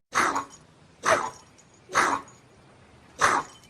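Four hoarse, raspy barks from a dog with clipped vocal cords, spaced about a second apart, each a short breathy burst with no voices around them.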